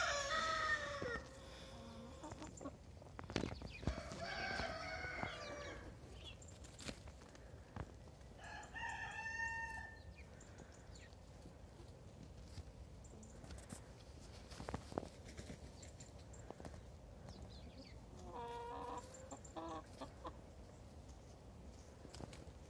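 Hens clucking and a rooster crowing in backyard poultry runs holding young hens of a few months to a year old, several calls in bursts over a steady outdoor background, with faint footsteps and no talking.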